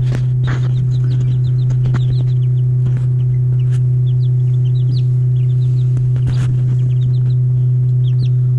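Soft chirps and peeps from Pekin ducklings scatter over a constant low hum, with occasional clucks from laying hens nearby.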